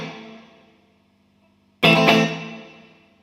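A guitar chord played through a Bob Burt reverb pedal rings out loud and suddenly, then fades over roughly a second of smooth, natural-sounding decay into quiet.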